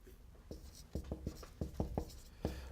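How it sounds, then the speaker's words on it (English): Pen or chalk strokes during a legal theory lecture, a series of short, sharp scratching taps at an irregular rhythm, close and clear with no talking. "See, let me write them down."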